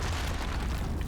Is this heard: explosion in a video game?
yes